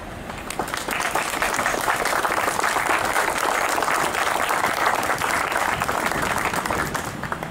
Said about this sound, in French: je vous invite, mesdames et messieurs, à les applaudir